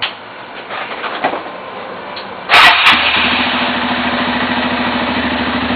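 A motorcycle engine cranks and catches partway through, then settles into a steady, throbbing idle that continues loudly nearby; no one speaks.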